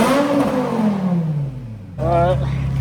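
BMW M5 E60 engine revving up and then settling, a loud falling engine tone over about two seconds, then a steadier idle hum returns as someone speaks over it.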